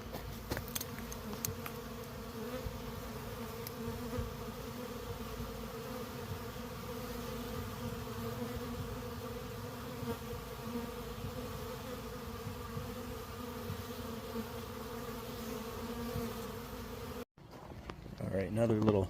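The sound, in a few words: honey bees buzzing around a swarming hive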